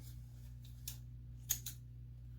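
A few quiet, crisp snips of scissors cutting paper, spaced apart over a steady low hum.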